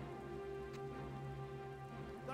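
Freezing Rain weather effect in the strategy game Battle for Middle-earth, a steady, soft hiss of rainfall with faint tonal hum underneath, continuous and quiet throughout with no talk.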